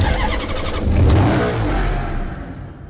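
An Audi TT RS engine in the video game Need for Speed Hot Pursuit Remastered cranks to life and revs, a loud, full, throaty burst that swells and then settles into a steady idle.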